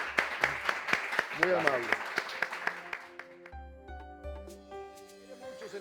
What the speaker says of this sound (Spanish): Vamos a darle un Gracias, aplauso a Reni, por favor.